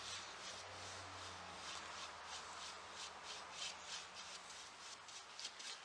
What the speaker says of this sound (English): So using our dry brush, get off any excess.